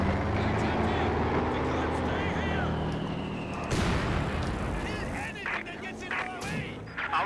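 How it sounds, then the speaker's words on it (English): Fragmentation bombs going off in Company of Heroes 2, heard as a sharp, broad blast over a steady rumble of battle noise, with scattered crackling impacts afterward and voices talking over it. "Fragmentation bombs"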